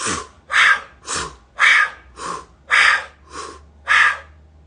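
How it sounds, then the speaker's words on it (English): Heavy Wim Hof style breathing during an ice bath, with eight loud, close, forceful breaths in a steady rhythm and short gaps between them. "I think I try to suck in too hard and blow out too fast with the air"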